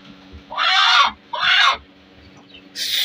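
An Aseel hen squawks loudly while eggs are placed under her, giving three harsh, close cries with short pauses between them.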